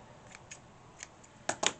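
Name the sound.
scissors trimming excess threads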